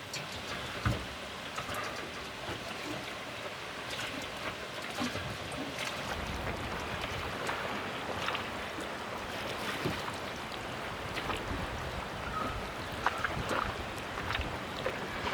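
Strong wind of about 20 to 25 knots blowing across a boat at anchor, a continuous broadband rushing roar with water slapping and occasional faint knocks and creaks, steady throughout and with no talk.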